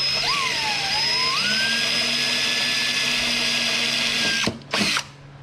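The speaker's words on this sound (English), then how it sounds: "Now I'm going to drill an 1/8 inch hole." A power drill bores a 1/8 inch hole during a saddlebag install on a Harley-Davidson Tri Glide, a loud, steady whine whose pitch shifts as it bites, then stops abruptly with a short final burst.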